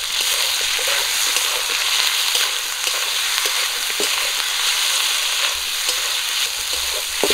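Ginger-garlic paste sizzles steadily in hot oil with onion and tomato for fish curry, a dense continuous hiss close by with faint scattered pops and occasional stirring scrapes, no voices.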